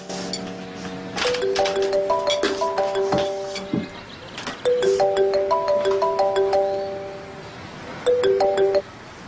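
A mobile phone rings with a bright melodic ringtone, its short tinkling phrase repeating three times with brief gaps, loud and close, with no one speaking.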